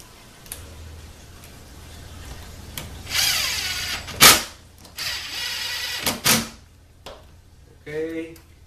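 A power tool spins an 8 mm socket during automatic transmission repair on an AW55 solenoid unit, with a few short close whirring bursts separated by pauses and light clicks from handling the tool.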